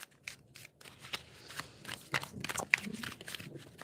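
Soft papery shuffling of tarot cards with quick riffles and slides, close and fairly quiet, in irregular bursts with no talking.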